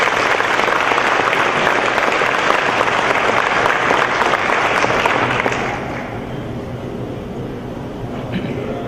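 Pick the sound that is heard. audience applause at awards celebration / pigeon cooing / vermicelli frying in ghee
audience applause at awards celebration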